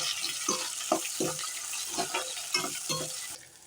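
Medium onions cut in three sauté with garlic in a pan for bitter gourd kuzhambu, giving a close sizzle broken by rhythmic stirring scrapes, then falling quieter at the end, with no talking.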